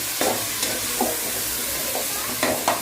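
Tomatoes and green chillies fry in a pan for chicken biryani, a steady close sizzle broken by several scraping stirs of a spoon at irregular intervals, with no voices.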